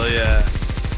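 A loud, close burst of rapid, evenly spaced shots from a Negev machine gun in Counter-Strike. Brief high tonal game sounds ring over the start of the burst.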